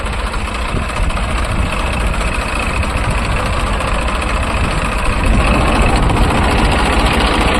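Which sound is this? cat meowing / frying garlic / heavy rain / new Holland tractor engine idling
new Holland tractor engine idling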